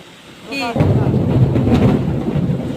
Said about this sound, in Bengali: এ বাজ পড়ছে